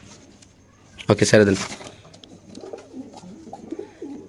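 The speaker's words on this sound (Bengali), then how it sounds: "কবুতরের ডাকটা দেয় একটু দর্শক আপনাদের" Caged racer pigeons coo in short throaty bursts close by, with a voice talking through and after the calls.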